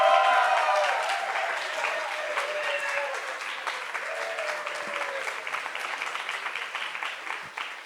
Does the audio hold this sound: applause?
yes